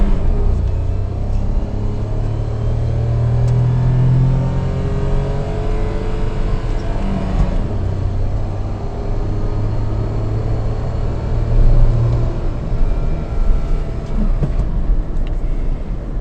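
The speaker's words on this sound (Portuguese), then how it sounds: "Vou acelerar aqui." Small Renault Kwid Zen car accelerating on a country road in the São Paulo interior, a steady engine drone with rising revving tones, recorded from inside, continuous and fairly loud with no talk.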